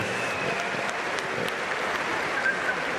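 Steady dense crowd applause at a KSW 48 mixed martial arts event in Lublin, sustained clapping filling the arena at an even level throughout.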